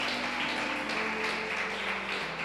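Worshippers in a church congregation clap together in a sustained round of applause, a steady crowd patter with a faint held tone running underneath.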